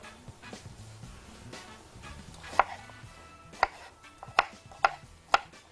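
A knife cuts through strawberries on a board, several sharp distinct chops spaced about a second apart after softer slicing sounds, close and clear with no talk.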